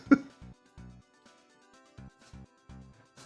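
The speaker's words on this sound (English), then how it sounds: "that laughter just triggered a coughing fit" A person coughs in a fit right after laughing: a string of short, close, throaty bursts in uneven rhythm, with brief pauses between them and no talking.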